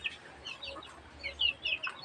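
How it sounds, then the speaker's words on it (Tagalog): A backyard chicken out in the open gives a few soft clucks and thin chirps in short bursts, fairly faint, over quiet ambient noise. "yung isa kong manok ko nasa labas na"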